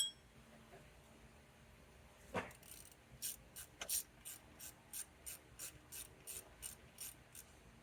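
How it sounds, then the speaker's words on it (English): A ratchet loosens the 15 mm belt tensioner bolt on a Chevy/GM 5.3L V8 engine, giving a quiet, close run of evenly spaced metallic clicks after a couple of louder clanks. "So we unbolt the tensioner."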